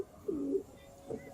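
A teddy pigeon gives two soft, close coos, the first longer and the second brief, in a quiet room.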